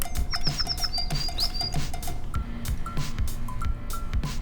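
A toy bird gives repeated high electronic chirps and warbles at close range, with faint background clatter and no talking.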